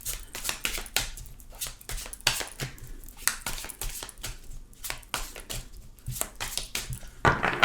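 Tarot cards shuffled by hand in a steady run of quick, close papery riffles and soft slaps, clear and fairly loud with no talking.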